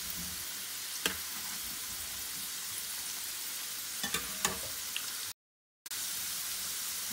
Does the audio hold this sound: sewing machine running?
no